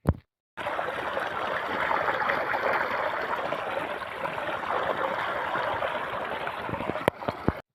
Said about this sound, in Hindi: कैसे पानी यार भाई आवाज़ करता है जब खेत में निकलता है